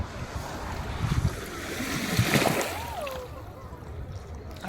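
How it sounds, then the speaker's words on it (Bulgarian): Sea waves wash onto a beach with a continuous surging roar that swells and recedes, mixed with wind buffeting the microphone and faint voices of nearby people. "Морето."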